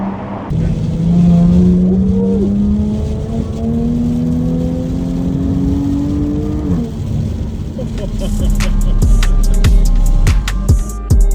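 A Jaguar F-Type sports car accelerates hard with wheelspin, its engine note climbing steadily in pitch, dropping at a shift, then rising again, loud and close with voices over it.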